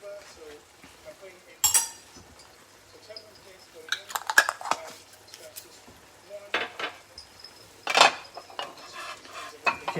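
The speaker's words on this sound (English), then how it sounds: "So I'm putting in tamarind paste going in" Tamarind paste stirred into a Kerala-style fish curry with tomato, giving intermittent scraping and clinking of a utensil against the pot, with a few sharper clinks amid quiet kitchen background.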